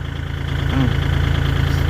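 A Kubota L4018SP tractor's diesel engine held at high revs, about 2,000 to 2,500 rpm, while set up with a disc harrow for ridging, giving a steady loud drone with a slight rise partway through.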